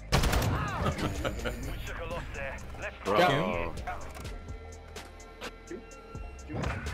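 A mortar strike in Call of Duty MW2 Search and Destroy crashes in as loud explosive gunfire bursts, mixed with game audio and a player talking excitedly over it.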